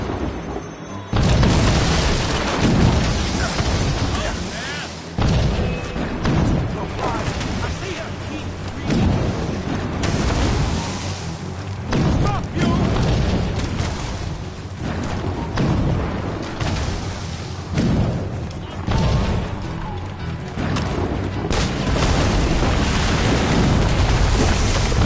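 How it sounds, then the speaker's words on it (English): Mortar explosions in Assassin's Creed Rogue, a loud, sustained barrage of heavy booms and crashing blasts at irregular intervals, with voices shouting between the impacts. "Chevalier is using mortars to stop Shay!"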